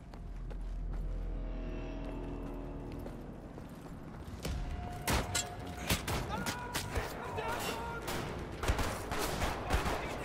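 Alien guns firing in Wolfenstein: The New Order, a ragged burst of sharp cracks and impacts that grows denser toward the end, over a steady mechanical background hum.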